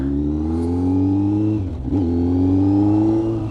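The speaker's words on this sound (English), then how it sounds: "this bike sounds amazing now." A Kawasaki Z900 inline-four motorcycle engine with a Leo Vince GP Corsa slip-on exhaust revs steadily with a rich, rising drone, dips briefly, then climbs again, loud and close.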